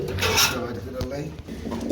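Mushaldom pigeons, a laying hen with eggs, coo in a steady low murmur close by, with some rasping rustle over it.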